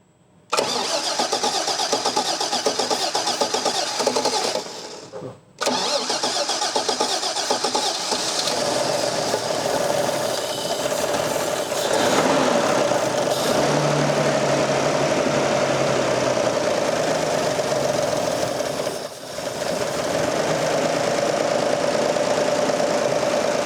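A Toyota FJ40 engine cranks, then catches and settles into a steady, loud, slightly knocking idle that runs for about twenty seconds with one brief dip, close up and with no talking.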